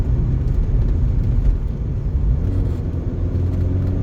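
A car passes on a foggy country road through flat fenland, heard as a steady, close, low rumble of tyres and engine throughout, with no voices.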